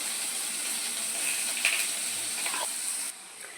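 Potatoes fry in oil in a pan with a light salting, giving a continuous close sizzle and hiss with a few small crackles, steady throughout before dropping slightly at the end.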